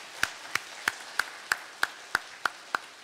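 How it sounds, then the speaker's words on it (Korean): Evenly spaced single claps, about nine crisp sharp hits at a steady beat, sound in a church for the choir, rather than a full crowd of applause. "우리 그래도 굴하지 않고 늘 열심히 준비하는 성가대에게 격려의 박수,"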